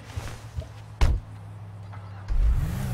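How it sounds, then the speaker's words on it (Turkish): A car in GTA 5 gives a sharp mechanical thunk, then a low engine starts up and settles into a steady idling rumble near the end. "Bakın şimdi motor çalıştırdım"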